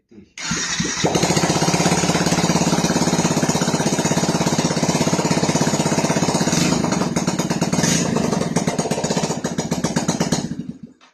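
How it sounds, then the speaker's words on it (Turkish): A Yamaha FZS 155 V4 motorcycle engine fires up and runs steadily and loudly up close, a dense continuous rumble lasting about ten seconds after a brief start, with no talking. "Motorun ilk kodlanması."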